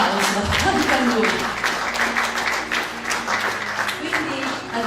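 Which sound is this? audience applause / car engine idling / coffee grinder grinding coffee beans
audience applause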